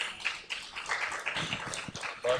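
Audience applause welcoming Ustad Nadeem Khawar to a photography workshop, a steady spread of clapping from a room of people lasting throughout, moderately loud with no talk over it.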